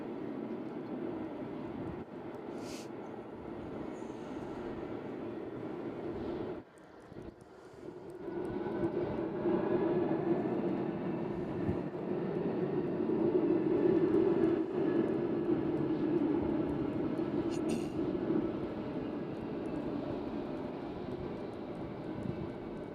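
A Boeing 747 cargo jet, the "Queen", roars steadily at UPS Worldport in Louisville, a continuous broad jet engine rumble that dips briefly then swells louder and holds, heard from a distance outdoors.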